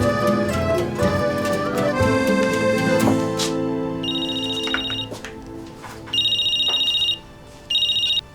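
A phone rings indoors with a repeating electronic ringtone in bursts, heard over background music before the repeating rings stand out alone.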